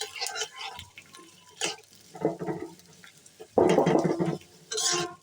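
Onions being stirred in a pan while frying for a Bengali bitter gourd (karela) bhaji, giving intermittent scraping and sizzling bursts with a louder stretch near the end, with faint voices around.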